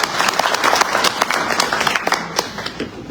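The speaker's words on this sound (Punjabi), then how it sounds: "ਜ਼ੋਰਦਾਰ ਤਾਲੀਆਂ ਨਾਲ ਪਤਨੀਆਂ ਦਾ ਸਵਾਗਤ" Audience applause welcoming the wives at a Lohri and New Year celebration held by a seniors' society in Calgary: dense, steady clapping from a crowd, loud and close, carrying on through the whole stretch.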